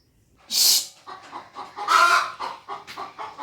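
A hen clucks repeatedly nearby, a sharp squawk followed by a run of soft, uneven clucks and another louder call, with no talking.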